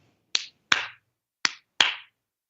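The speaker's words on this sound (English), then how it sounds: "if I don't have any sage, I often use clapping" Four crisp hand claps in a quiet room, arriving in two pairs, each sharp and close with a short ringing tail.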